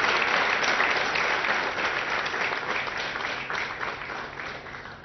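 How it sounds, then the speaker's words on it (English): A seated audience claps at a ceremony marking the delivery of the 100th fuselage from the Tata Boeing facility in Hyderabad, a full burst of applause that slowly tapers off. "A big round of applause"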